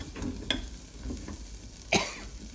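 Pork stir-fries in a pan with curry paste, lemongrass and kaffir lime leaves, a soft sizzle broken by a few sharp scraping stir strokes, one louder clack near the end; no speech.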